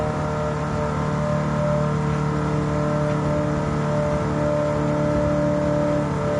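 Race car engines in Gran Turismo 7 during a CASCAR legends race, heard as a steady, loud, close engine drone with sustained harmonic tones, slight revving swells, and no talking over it.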